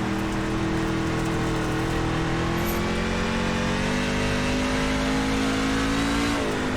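Race truck engines drone and rev steadily in an iRacing NASCAR truck race on the Bristol dirt track, a dense, continuous roar of several engines with rising pitch near the end.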